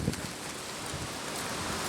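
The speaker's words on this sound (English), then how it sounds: "It is pouring. Monsoon, high winds." Pouring monsoon rain driven by high winds makes a dense, steady roar close to the microphone, with gusts buffeting throughout.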